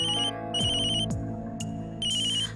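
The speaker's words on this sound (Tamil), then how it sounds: "ரமா தான் ஃபோன் பண்றாங்க." Telephone ringtone in a Tamil household drama, a bright electronic melodic ring repeating in short bursts over a low background hum, with no one speaking.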